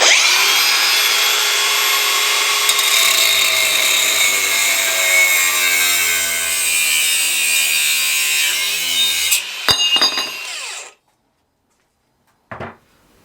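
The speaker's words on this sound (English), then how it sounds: "We've got an angle grinder, so that's what we're going to use." An angle grinder cuts through metal tubing, giving a loud, continuous high-pitched whine for about ten seconds before the cut finishes and the disc winds down, followed by a short burst of noise near the end.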